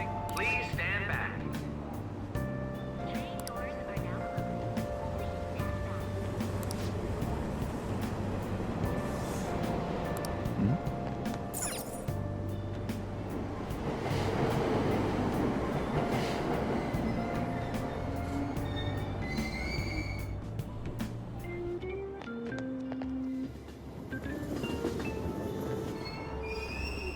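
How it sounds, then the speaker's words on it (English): A subway train in the video game Persona 5 Royal pulls out of a station, wheels squealing and carriages rumbling over steady background tones and station chimes, with an announcement voice and talk over it. "Platform number 2, service to Asakusa is departing soon."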